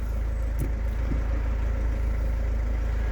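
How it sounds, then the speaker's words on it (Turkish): A Renault Megane 2 engine idles with a steady, close, low rumble that holds even throughout, with no voices. "Onun için bir aracı çalıştırmam lazım."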